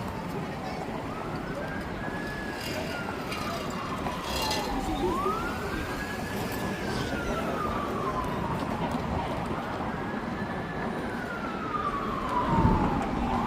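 An emergency siren wails in long rising and falling sweeps on Adelaide Street in downtown Toronto, repeating steadily over the rumble of city traffic, with people talking nearby.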